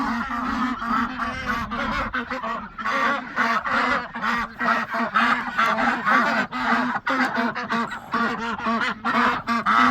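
A flock of about 20 penned ducks quacks and honks continuously, many loud overlapping calls close by with no pauses.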